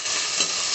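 A tomato mixture for pani puri is stirred in a hot pan, giving a steady close sizzle with a soft scraping swell partway through.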